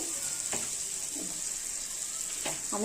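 Onions sizzling in a pan of hot oil, a steady bright hiss throughout with a few soft stirring scrapes, close and continuous.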